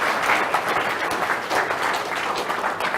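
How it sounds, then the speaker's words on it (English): A room full of people applauds during a talk, a steady, moderately loud patter of many hands clapping with small swells, without voices over it. "I think that's worth a round of applause."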